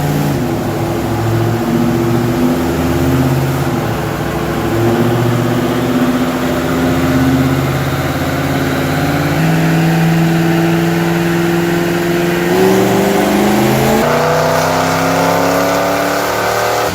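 A turbocharged Pontiac Trans Am engine revving hard on a dyno, a loud sustained roar that holds near one pitch, then climbs and shifts near the end, close and constant throughout.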